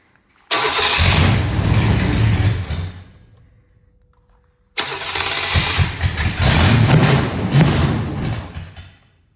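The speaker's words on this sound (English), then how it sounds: "now we know it doesn't make any noises when it's got exhaust on it and the engine sounds good" Engine of a 1970 GMC 2500 truck cranks and fires, runs loud and rough for a few seconds, cuts out to near silence, then starts again and keeps running strongly to the end.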